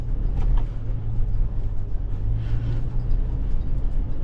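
A 2022 Ford Ranger crawls along a rough, muddy, barely-there trail, its engine giving a steady low rumble with a droning hum throughout and faint scrapes and knocks above it, no talking.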